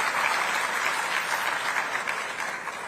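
Enthusiastic audience applause at a Rajasthani community gathering in Guwahati, a dense, steady roar of many hands clapping close and loud throughout, with no voices over it.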